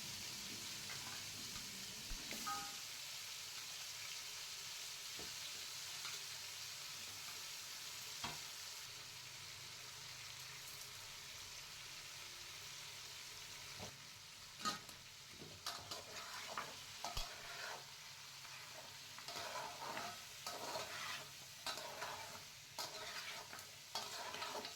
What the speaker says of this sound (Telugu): కూరని చక్కగా వేగనివ్వాలి. మధ్య మధ్యలో కలుపుకుంటూ నీరంతా కూడాను ఎగిరిపోయేలాగా వేయించుకోవాలి.